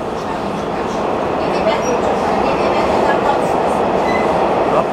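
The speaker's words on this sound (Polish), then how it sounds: "moja recenzja metra warszawskiego" A Warsaw metro train rides along with a loud, steady underground roar and rumble that continues unbroken.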